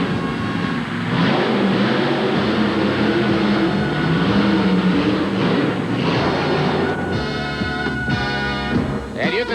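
A Ford monster truck engine runs loud and continuous at a 1988 monster truck championship event, rumbling and revving under crowd and arena noise.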